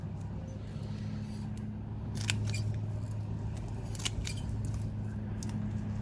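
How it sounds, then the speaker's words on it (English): Scissors snip through the leaves of a Sarracenia carnivorous pitcher plant during division, several crisp close cuts spaced a second or so apart over a steady background hum. "I'm just going to cut it down like this."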